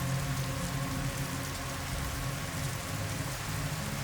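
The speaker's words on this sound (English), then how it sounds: "The rain hammers so hard on the trees and rocks that you start hearing shapes in the noise" Heavy rain falls steadily on trees and rocks in a dense, unbroken wash of hissing and pattering that stays loud and constant throughout, with no voices.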